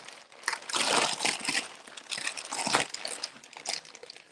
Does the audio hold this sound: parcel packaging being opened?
yes